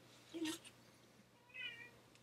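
A house cat meows close by, two short meows about a second apart, the first brighter and sharper, the second softer, set against a quiet room with a low steady hum.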